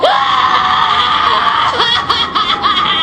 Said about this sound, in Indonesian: Stephen yang terjatuh berteriak kesakitan.